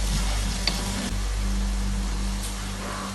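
Two medium onions hit hot oil in a pan for a fish biryani, producing a steady, broadband sizzle that fills the scene evenly, with a faint clink or two and no speech.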